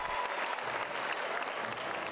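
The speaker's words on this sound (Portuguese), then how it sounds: "Na plateia, uma multidão e muitos aplausos." A crowd in a theatre audience applauds during a Christmas show rehearsal, steady, fairly distant clapping throughout the short stretch with no one speaking over it.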